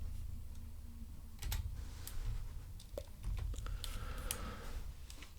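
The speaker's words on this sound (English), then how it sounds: "And I'm using the keyboard to type it in." Fingers tap on a computer keyboard to enter text during gameplay on an Xbox One X, scattered light clicks at an uneven pace over a low steady hum, close and fairly quiet.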